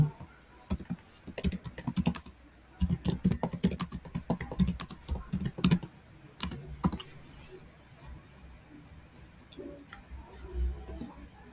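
Quick clicking keys on a computer keyboard as Ctrl+V is pressed to paste, with a cluster of taps and clacks early on that thins to sparse, quieter clicks toward the end, close by.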